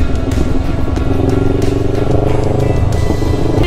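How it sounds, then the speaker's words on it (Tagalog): CF Moto motorcycle engine running loudly and close with a steady throbbing drone and some clatter, on a mountain cross ride with a damaged crank. "Ito nagagawa yung motor ni Josh."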